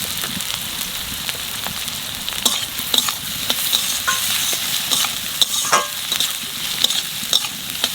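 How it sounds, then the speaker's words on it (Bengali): Raw onions with whole garam masala and green chillies sizzle loudly in hot oil, a dense crackling hiss broken by scattered clicks of a stirring spoon against the pan, heard close with no speech. "পেঁয়াজটা একটু ভেজে নিয়েছি"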